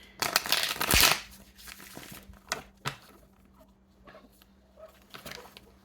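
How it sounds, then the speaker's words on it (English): Quick riffling shuffles of a deck of tarot cards, a dense burst up front followed by softer snaps and flicks, close by with no talking. "I need to shuffle 3 times."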